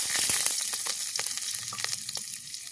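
Bay leaves and whole garlic frying in hot oil, a loud, close, continuous crackling sizzle with dense popping that eases slightly after the first moment.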